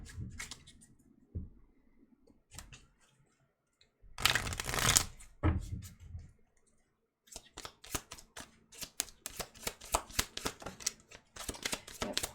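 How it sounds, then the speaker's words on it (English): A deck of romance angel oracle cards is shuffled by hand close up, with scattered soft taps and slides, a brief louder burst of cards, then a long run of quick, crisp overhand-shuffle flicks. "let's shuffle the romance angels and see"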